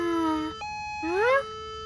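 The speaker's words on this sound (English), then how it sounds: "Is that your siren?" A cartoon siren gives two rising and falling wails, clear and close, with a short gap between them.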